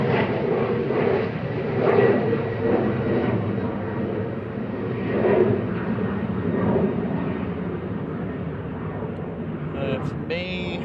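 A TAP airliner departs Manchester Airport for Lisbon, a steady, broad engine roar heard from the spotting area that gently swells and eases across the clip.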